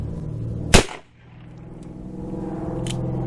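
A single sharp report from an old Ruger Blackhawk revolver firing Federal HST rounds from its 40 Smith & Wesson cylinder outdoors at a chronograph, loud and close, followed by a short decay and a low steady background rumble.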